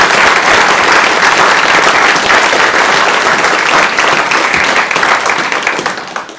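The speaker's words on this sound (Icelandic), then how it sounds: "Þannig mér langar að biðja ykkur að gefa gott klapp." Loud, sustained applause from an audience at a candidates' meeting, dense clapping filling the room and tapering slightly toward the end.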